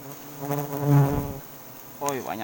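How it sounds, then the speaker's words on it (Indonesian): Bees swarm and buzz around a hive built at ground level, a dense, close, humming drone that swells in the middle and returns after a short dip near the end. "Oi, banyak lebah masuk."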